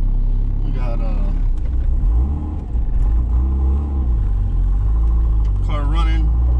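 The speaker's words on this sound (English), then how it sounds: "We got car running." A turbocharged SOHC Dodge Neon with a built 2.0 engine runs steadily close by, a low rumbling idle that lasts throughout, with people talking over it and a few brief higher sounds on top.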